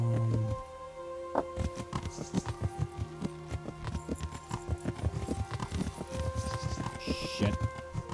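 Horse hooves clip-clop in a steady trotting rhythm in Kingdom Come: Deliverance, close and distinct with clustered hoofbeats throughout.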